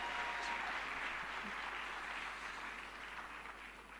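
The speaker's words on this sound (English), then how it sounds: "let's give a bigger round of applause to them" An audience at the Bank of Ghana's Cedi at 60 anniversary launch gives a sustained round of applause, a steady, slightly distant wash of clapping that slowly fades across four seconds.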